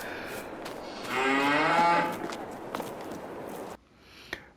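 A single long cattle moo sounds in Farming Simulator 22 at a cow shed, fairly close and loud, with light footsteps and small thuds around it before a sudden cut to near silence.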